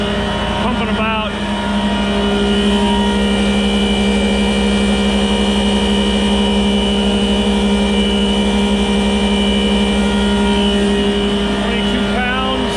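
A pumping machine fitted with a brand-new blower runs steadily and loudly, a continuous mechanical drone with strong tonal hum throughout, close by and unbroken.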